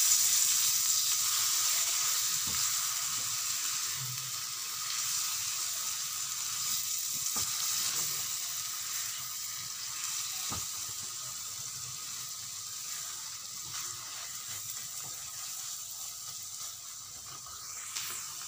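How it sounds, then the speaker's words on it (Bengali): A mustard, sesame and chilli paste thinned with a little water sautés in a pan, a soft steady sizzle and hiss with a few faint scraping clicks, quiet and continuous. "আর দিয়ে দেবো মিক্সচারের বাটি ধোয়া জল অল্প দিয়ে এটাকে ভালো করে কষে নেব।"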